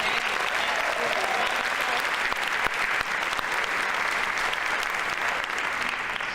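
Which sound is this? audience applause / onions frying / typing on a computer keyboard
audience applause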